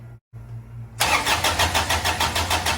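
An old, worn Briggs Daihatsu diesel engine, cold and warmed by glow plugs, is cranked by its starter after a brief pause. It churns loudly and close in an even, rhythmic, pulsing cycle.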